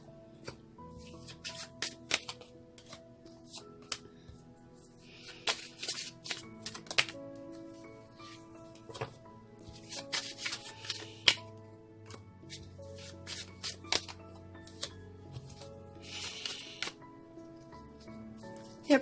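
A deck of magic oracle cards is shuffled by hand in a series of crisp riffling and sliding bursts with brief pauses, close and fairly quiet, with no talking.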